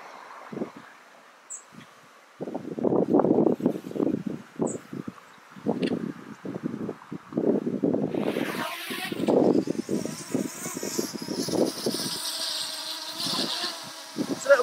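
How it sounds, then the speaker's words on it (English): Gusty wind near Hawick buffets the microphone in repeated low, rumbling bursts, with a brief rustle and faint background noise between gusts. "bit windy today"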